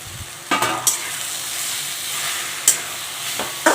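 Raw mango muramba mixture stirred in a pan, with a faint low sizzle under a few sharp spoon scrapes and clinks, close by and spaced apart.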